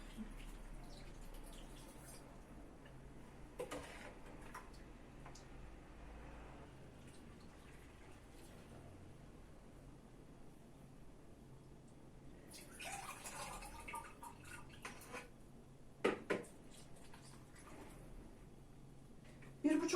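Sugar syrup poured onto grapes for grape pickle, a faint liquid trickling and splashing with a louder burst of pouring midway, under quiet background noise.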